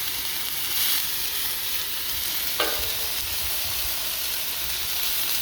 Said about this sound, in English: just hear that sizzling